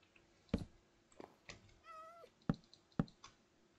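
Cat meowing in Minecraft, with a few short sharp meows and soft knock-like clicks of game sounds, fairly quiet with no talk.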